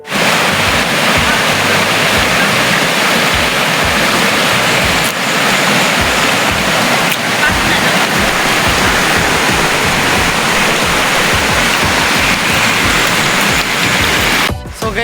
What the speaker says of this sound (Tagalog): Tapos ito may ilog dito.